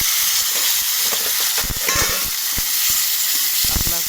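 Papaya, potato and beans tipped into hot oil tempered with radhuni seeds set off a loud, hissing sizzle that holds steady, with a few clattering stirs and clicks near the pan, no talking.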